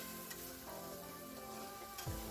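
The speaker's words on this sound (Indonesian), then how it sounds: "sekarang kita masukkan tomatnya, kita tumis kembali" Tomatoes and spice paste sauté in a pan for a home-cooked shrimp and petai balado, giving a steady close sizzle throughout with faint stirring scrapes and a brief low clatter near the end.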